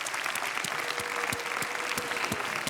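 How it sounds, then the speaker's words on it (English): Audience applause at a violin virtuoso competition final, dense sustained clapping from a large crowd filling the hall, steady and loud throughout. "a big applause for our orchestra"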